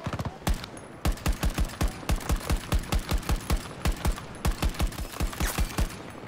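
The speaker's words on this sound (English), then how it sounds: "I'm being shot" Automatic weapon fire rattles in Battlefield 2042 in rapid, evenly spaced bursts of sharp, loud shots, a few short pauses between strings, close to the listener with no voices over it.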